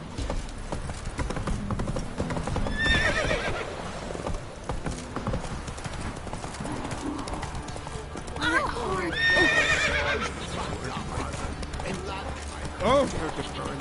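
A horse's hooves clip-clop in a steady galloping rhythm in The Witcher 3, with whinnies and neighs breaking through around the three- and nine-second marks, all under game speech and background score.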